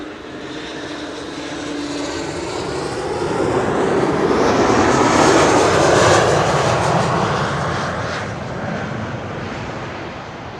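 A KLM jet, flight 1076, roars in to land at Schiphol's Kaagbaan runway, its engine noise swelling loudly to a peak mid-pass and then fading away, with no talk over it.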